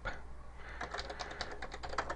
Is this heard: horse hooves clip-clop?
no